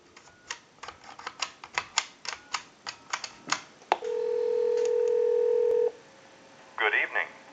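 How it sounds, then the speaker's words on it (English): A telephone handset repeats loud rhythmic mechanical clicks, then gives a steady dial tone for about two seconds, followed by a quick burst of DTMF keypad tones. "So we'll go ahead and give you some dial tone, and we'll call that number."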